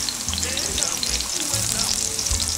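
Sweet plantain slices fry in hot oil with a close, continuous crackling sizzle that keeps a steady level throughout.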